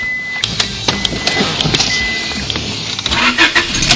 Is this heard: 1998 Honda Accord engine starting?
yes